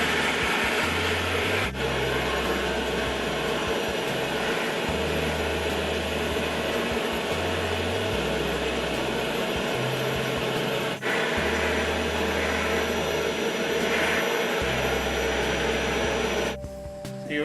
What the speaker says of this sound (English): I'll see if we can vacuum up all the excess.